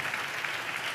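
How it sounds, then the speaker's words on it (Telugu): A congregation clapping in praise of Jesus, a brief burst of dense even applause at moderate level. "చప్పట్లు కొట్టి యేసయ్యకు స్తోత్రాలు చెప్దాం"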